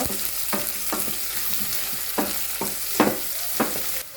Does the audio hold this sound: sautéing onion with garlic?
yes